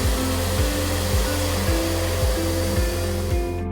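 A Jet Tifón high-performance automatic hand dryer blows a loud, steady rush of air that does not let up, with a rhythmic thumping beat of background music running beneath it.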